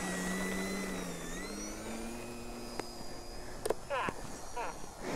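An electric FliteTest Storch RC plane takes off with flaps down, its motor a steady whine that rises in pitch and then fades as it climbs away, with a voice briefly talking over it.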